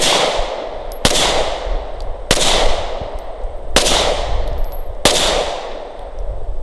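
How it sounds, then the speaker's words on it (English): A Glock 17 Gen 5 pistol is fired with a loose, limp wrist, giving five loud, sharp shots spaced roughly 1.3 seconds apart, each with a brief ringing decay. Faint clinks of ejected brass fall between the shots. "first thing I'm going to do is shoot it kind of limp wristy."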